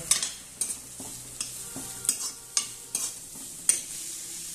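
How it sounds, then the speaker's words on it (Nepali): Food shallow-frying in a little oil for spicy noodles, with a soft continuous sizzle broken by about nine sharp scraping or stirring clacks of a spatula against the pan at a fairly even pace, no voices. "यसलाई चाहिँ कम्ती तेलमा चाहिँ मजाले फ्राई हैन"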